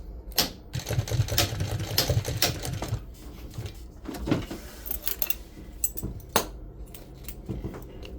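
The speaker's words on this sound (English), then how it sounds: "We're going to lock stitch again." A sewing machine lock stitches a boat seat cover in upholstery work, producing close, rapid mechanical clatter in bursts with brief pauses between runs of stitching.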